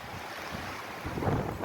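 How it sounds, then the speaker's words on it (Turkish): Strong storm wind of about 90 km/h roars, rushes and buffets continuously, swelling louder toward the end, with no voices. "Saatte 90 hızı var yaklaşık rüzgarın arkadaşlar. Acayip esiyor."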